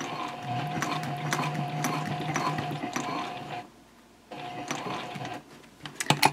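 A sewing machine stitches down the side of a Swoon Maisie bowler bag in close, steady mechanical bursts, pausing briefly in the middle before running again, then ending with a few sharp clicks.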